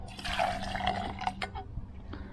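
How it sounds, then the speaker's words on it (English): Blue-purple liquid pours into a lidded container for headlight restoration, a steady watery splash and trickle close to the microphone that thins out toward the end. "So we're gonna pour this."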